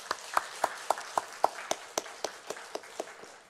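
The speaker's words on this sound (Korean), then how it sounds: "우리 박수하시겠습니다" Church congregation clapping in unison, a slow steady beat of about thirteen sharp claps spaced evenly, moderately quiet and heard in a large room.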